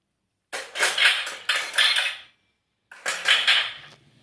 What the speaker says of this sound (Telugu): ఇవన్నీ చింతపండు ఇంకా జెల్ వేసి, అదే డిష్ వాషింగ్ జెల్ వేసి బాగా తోముకుంటున్నామండి.